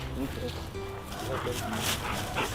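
Dogs bark and yip at the SPA animal shelter in Gennevilliers, with several short barks scattered across the moment under ongoing talking nearby.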